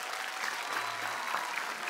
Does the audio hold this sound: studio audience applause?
yes